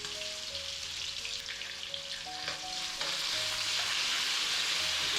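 Doubanjiang chili bean paste sizzles in hot oil in a wok while being stirred, a steady close broadband hiss with scraping and clinking of the spatula, intensifying partway through, with no talking.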